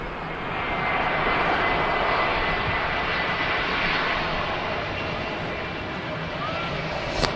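A Jet2 Boeing 757 airliner at Manchester Airport gives a steady, broad engine roar that holds loud and even for the whole stretch, with no talk over it.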